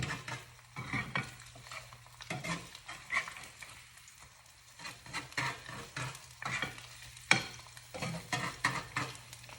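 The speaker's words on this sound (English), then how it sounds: "So as the fried egg is cooking," An egg fries in a frying pan, giving a steady low sizzle broken by scraping, stirring clicks and a sharp clink around seven seconds, all close and moderately loud.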